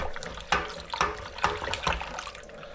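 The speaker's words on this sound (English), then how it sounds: "we just want to make sure all this liquid malt extract is all dissolved in and stirred in" A long spoon stirs liquid malt extract into water for homebrewed beer, making soft rhythmic sloshes and swishes about every half second, quiet and close.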